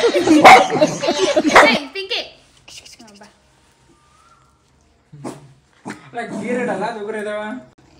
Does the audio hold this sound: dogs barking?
yes